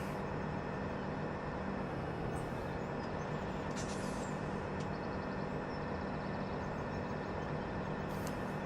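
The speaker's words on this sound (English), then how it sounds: "We'll take the train for the rest of the ride here." Steady rumbling ride aboard a train in Farming Simulator 17, a continuous low drone with faint brief hisses and clicks over it.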